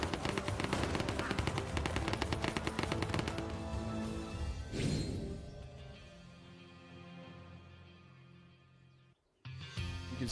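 Gunfire in a GTA V NoPixel roleplay game, a loud dense volley of rapid shots for several seconds that thins out into fainter game sounds and then a brief cut.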